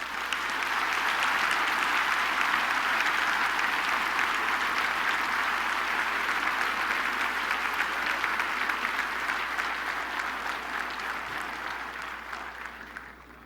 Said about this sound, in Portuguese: Você pode dar ao Senhor um forte aplauso.